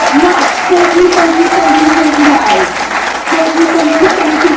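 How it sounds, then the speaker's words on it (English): Audience at a spring benefit auction breaking into loud, sustained applause and cheering, dense clapping throughout with voices calling out over it. "if you're not bidding, please clap and cheer because wow"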